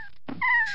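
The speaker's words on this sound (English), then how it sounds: "This is the cat noise." A short cat-like wail or meow rises after a brief silence, a single drawn-out tonal cry with strong harmonics, fairly close and alone.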